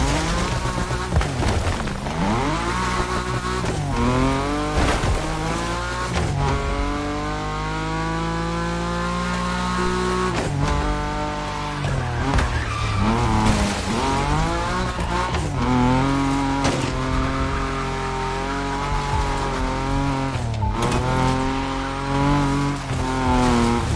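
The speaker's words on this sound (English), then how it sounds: "Indeed, the BMW Z4," A BMW Z4's engine in The Crew Motorfest, revving loudly with sweeping pitch climbs and drops through repeated gear changes, close and continuous, with occasional tire squeal.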